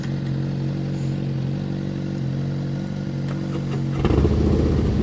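A motorcycle rolls through slow-speed riding practice in Florida, its engine humming steadily at low revs before a sharper burst of throttle and clatter near the end, close and alone without talk.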